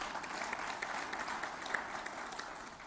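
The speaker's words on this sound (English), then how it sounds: "the Gujaratis deserve a huge round of applause from all of us." Audience applause at a PLASTINDIA 2023 plastics industry event in Telangana: a dense, continuous patter of many hands clapping at an even level for about three seconds, with no voices over it.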